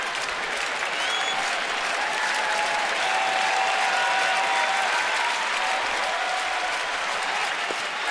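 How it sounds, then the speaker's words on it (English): Baseball stadium crowd during a Pittsburgh at Washington game, a steady loud roar of cheering and applause that swells and holds for the whole stretch, with no talk over it. "Crowd starting to make a little noise here."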